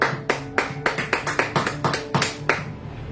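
Church congregation clapping during a worship service: sharp, evenly spaced claps in a quick steady rhythm, about a dozen beats, close and clear with no talk over them.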